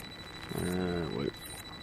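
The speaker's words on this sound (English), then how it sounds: "let's just risk setting off the alarm so I can steal money." An alarm in the video game Mass Effect 2 goes off: one loud, steady buzzing electronic tone lasting under a second, ending in a quick downward slide, over a faint constant high whine.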